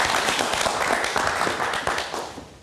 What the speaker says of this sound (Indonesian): kita kasih tepuk tangan untuk Cing Abdel